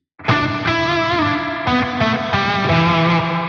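A heavily distorted electric guitar played through a fuzz distortion pedal sounds sustained, buzzy fuzz-toned notes with a few chord changes, loud and close, with no voices.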